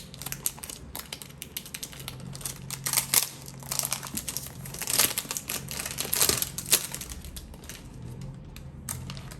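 Paper packaging of a Givenchy Gentleman perfume box crinkles and crunches close up, with irregular bursts of rustling and small taps that swell and fade over several seconds, no talking.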